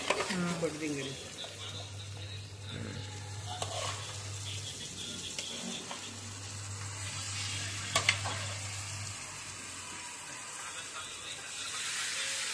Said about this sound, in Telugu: మనోడు చికెన్ వేస్తున్నాడు